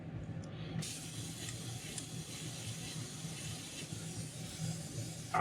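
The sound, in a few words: spraying yellow paint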